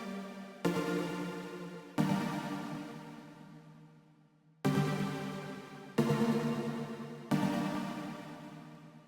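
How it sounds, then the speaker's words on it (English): A plucky synth with a shaped ADSR envelope and heavy reverb plays four or five separate notes or chords alone, each starting sharply and then decaying into a long washed-out tail, at low volume. "I adjusted the ADSR envelope to make it this sort of plucky sound, and I added a lot of reverb to get it all washed out"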